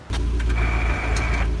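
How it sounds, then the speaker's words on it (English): A car's clutch grinds loudly as it is put into gear, a harsh, buzzing mechanical drone that starts abruptly and holds steady for over a second, close up with no voices. "I put the clutch in, put it in the gear, and it just makes the same exact grinding sound."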